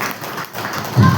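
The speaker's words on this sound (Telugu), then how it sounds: "గట్టిగా చప్పట్లు కొడదామండి." Congregation at a Sunday church worship service breaking into loud clapping that swells near the end of a short burst.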